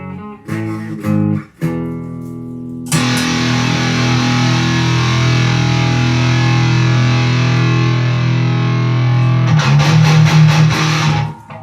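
Heavily distorted electric guitar through a Joyo Zombie II pedal with gain all the way up, playing sustained, saturated chords with a thick, buzzing high-gain tone, loud and continuous after a few choppy opening strums.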